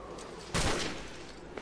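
A single loud blast of gunfire erupts in a Call of Duty 4: Modern Warfare firefight, a sharp burst followed by a decaying rumble against low background battle ambience.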